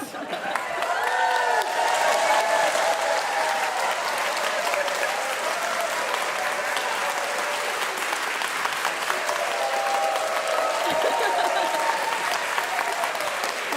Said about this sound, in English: perhaps you would like to do so vigorously with cheering and applause